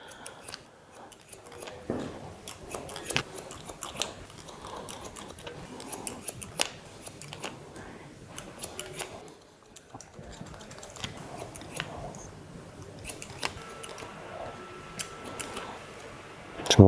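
Scissors snip hair during a haircut in quick, close, crisp clicks that come in irregular bursts, with quiet pauses between runs of cutting.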